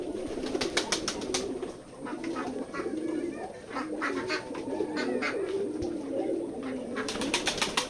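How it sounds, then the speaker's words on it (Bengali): Many pigeons at a pigeon farm in Betikhola village, Keshabpur, Jessore, coo in low, overlapping rolling calls at moderate distance, with occasional light clicks and taps amid the flock and no voices. "এছাড়াও আরও অনেক কবুতর আছে"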